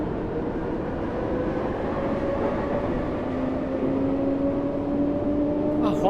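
London Underground-style electric train in Train Sim World 5 accelerating, a steady rumble with rising whining motor tones climbing in pitch throughout, up close and continuous.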